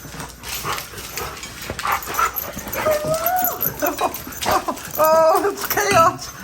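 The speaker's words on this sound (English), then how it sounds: "Oh, somebody is at the door." Several pet dogs bark, yip and whimper excitedly as someone arrives at the front door, close and loud in bursts over people talking in a busy home.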